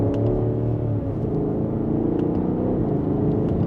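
A 2025 Alpina XB7 SUV accelerates in sport mode, heard from inside the cabin as a steady, loud, low engine rumble and drone with no talking.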